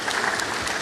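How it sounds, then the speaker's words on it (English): Audience applause at a Kenyan secondary school heads' annual convention, a dense steady patter of many hands clapping in a large hall, brief and fairly loud. "a round of applause to Peter"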